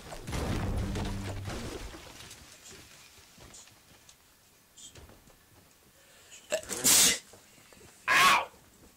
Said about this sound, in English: Sneeze hurt.